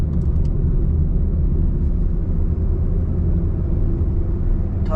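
A Maruti Suzuki Dzire car cruises in fourth gear at about 2200 RPM, a steady loud low rumble of engine and road noise heard from inside the cabin, no talk.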